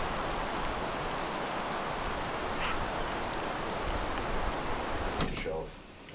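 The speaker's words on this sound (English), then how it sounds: "there's currently freezing rain" Freezing rain falls outside a remote off-grid cabin as a steady, dense hiss that holds evenly for several seconds before dropping away near the end.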